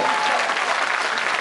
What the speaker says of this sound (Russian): Еще раз аплодисменты, с юбилеем вас!